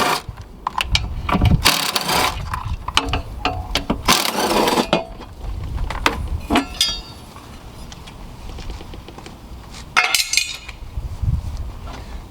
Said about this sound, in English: I'm going to go ahead and remove the bracket that was holding it on. It looks like there are 1, 2, 3 10mm bolts.